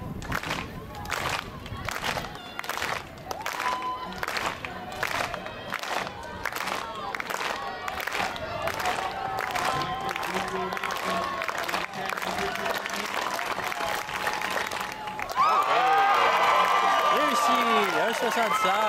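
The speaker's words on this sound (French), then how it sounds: "Oh, avec un peu d'encouragement de la foule." A crowd watches a juvenile women's high jump at the 2014 Jeux du Québec athletics meet. Rhythmic clapping comes in steady, even beats, then swells into loud cheering and applause near the end, with people talking over it.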